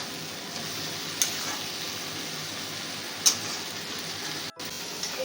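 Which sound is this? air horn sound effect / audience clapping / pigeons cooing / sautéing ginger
sautéing ginger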